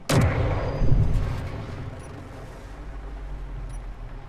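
A large gun fires in Space Engineers, a heavy booming blast at the start followed by a second thump and a long low rumbling decay; no talking.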